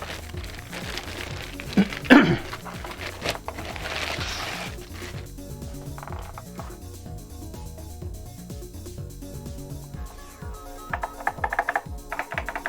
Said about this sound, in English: Oh, sounds really good. Some keyboard ASMR here.